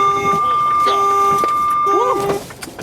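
The collision warning in a Freightliner Cascadia semi truck sounds as a loud electronic tone repeated three times in steady pulses, with each pulse ending in a short rising-and-falling chirp, over cab noise and a voice.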